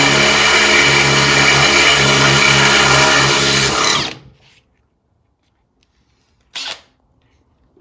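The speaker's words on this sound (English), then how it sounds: "Although the screws do go into this light panel, it's actually 2 rivets that hold it on properly as well. So we've just got to drill them out," Drilling out rivets on the light panel of a 1968 Wheel Horse Raider garden tractor: a loud, steady drill whine for about four seconds, then it stops, followed by silence and a short burst of noise.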